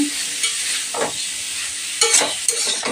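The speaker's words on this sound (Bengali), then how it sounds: "এবার লাউর সাথে মশলাটাকে ভালোভাবে কষিয়ে নেবো।" Fresh, tender bottle gourd is stir-fried with spices in a pan, producing loud, close, repeated scraping strokes over a continuous frying sizzle, with no one talking.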